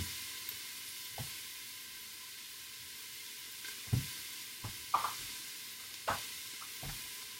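Garlic sizzles in a pan for chicken noodle soup, a faint, steady frying hiss. A few soft taps and scrapes of stirring break through it.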